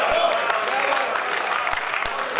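Light clapping from an audience at a live mushaira poetry recital in Pathankot, a thin continuous patter of applause with a few distinct louder claps over a murmuring room.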